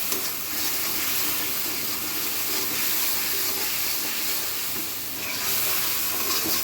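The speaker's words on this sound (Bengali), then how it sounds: "এবার মশলাটাকে সুন্দর করে কষিয়ে নেবে" A spice paste of cumin, dried chilli powder, turmeric and salt fries in oil while being stirred, making a continuous soft hiss and sizzle with faint scraping, close and steady, without speech.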